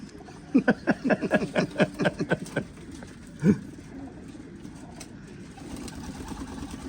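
Pigeons in a loft cooing, a quick run of rhythmic throaty coos close by, then one deeper coo and a quieter stretch with faint background noise.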